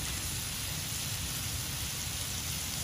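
Light drizzle at a Castle Falls campsite makes a steady, even hiss of fine rain with no distinct drops and no talk, constant and moderately loud throughout.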